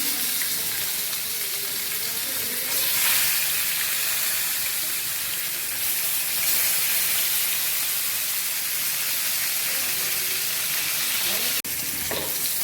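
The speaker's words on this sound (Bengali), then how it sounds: "মাছের মুড়োটা ভেজে নিচ্ছি" Fish heads fry in oil in a pan, giving a continuous, close hiss and sizzle with small surges and a soft clatter near the end.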